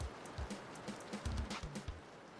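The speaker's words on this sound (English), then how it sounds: "Rain a bit too loud." A rain ambience effect plays over a stream as soft, steady pattering rain with scattered light drops and a few low thumps, faint and continuous with no voices.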